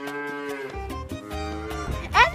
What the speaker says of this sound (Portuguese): Agora a gente tem que esperar a vaca passar.